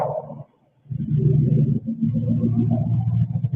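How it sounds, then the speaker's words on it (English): A truck rumbles past outdoors, a deep continuous low rumble that swells after a brief lull and holds steady for several seconds. "And here comes the bumbling truck."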